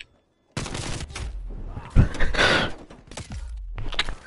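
Loud, rapid bursts of gunfire from a first-person shooter video game, with a heavy report and dense overlapping shots that fill the whole clip.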